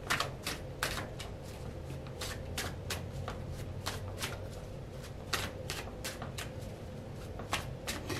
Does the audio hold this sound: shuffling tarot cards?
yes